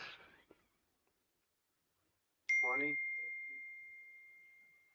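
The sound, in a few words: text message notification ding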